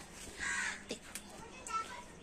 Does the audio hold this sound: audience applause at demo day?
no